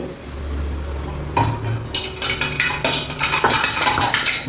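Chickpea pakoda batter mixed in a bowl, with repeated clinks and scrapes of a utensil against the dish, close and moderately loud, irregular in rhythm, no talking.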